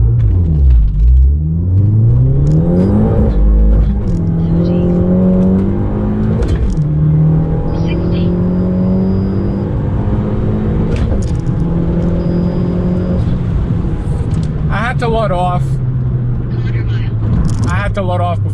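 A big-turbo Abarth 500 launches hard and accelerates down a quarter-mile strip, its engine climbing through several gears in rising sweeps with shift breaks, loud and close from inside the car.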